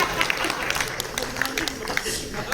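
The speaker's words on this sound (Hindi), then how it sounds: "अगर समझे नहीं हो आप भी ताली बजा दीजिए" An audience at a literary poetry recital gathering on the Kumbh claps in a steady wash of applause, a dense crackle of many hands filling the room beneath a voice that keeps talking.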